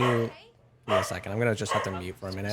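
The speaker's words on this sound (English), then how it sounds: "I apologize for my dogs." Dogs barking and yipping in a home, breaking out between and under a man's speech in short bursts, fairly close and loud.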